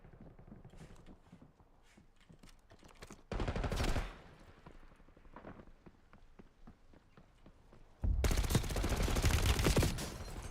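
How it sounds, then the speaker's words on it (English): Gunfire in the video game Warzone, with scattered shots and light footsteps under a busy mix, then two loud sustained bursts of automatic fire, one short and one longer near the end. "Taking fire!"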